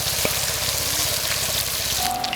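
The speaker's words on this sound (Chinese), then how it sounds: "再把这个炒香啊" Pork and bamboo shoots stir-fry in a wok with a steady, close, crackling sizzle of hot oil that runs unbroken throughout, with no talking.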